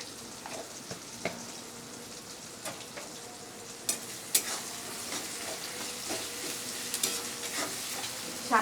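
Chopped onion and salt frying in a pan, a soft steady sizzle broken by sharp scraping clicks of a spatula stirring at irregular intervals, close up with no voices.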